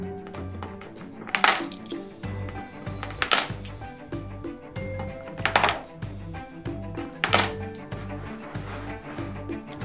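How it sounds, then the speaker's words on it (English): Coins clink and tumble into a painted Paw Patrol Chase coin bank in several separate bursts, with quieter shuffling and thunks between drops. "let's put some coins."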